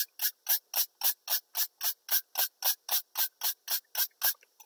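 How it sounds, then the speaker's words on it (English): A spray bottle of alcohol fired onto plastic wrap in quick succession, about fifteen short hissing pumps at an even rhythm, close and distinct, with no talking. "spray the alcohol again."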